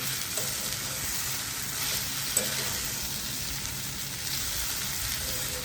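Thick noodles with egg and spices stir-fried in a pan, a continuous close sizzle with soft scraping and stirring sounds, no talking.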